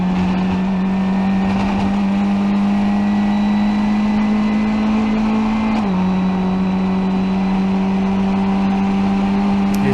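Formula 1600 race car engine held flat out through uphill esses, a loud steady high-revving drone with a brief pitch shift partway as the car bounces over crests.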